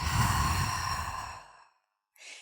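A long, slow exhale through the mouth during yoga, soft and close, fading out over about a second and a half before a faint breathy sound.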